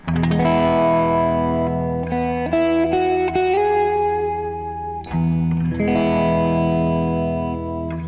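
An electric guitar through a Keeley Zoma reverb pedal rings out sustained chords and notes drenched in lush reverb, with long shimmering tails between strums.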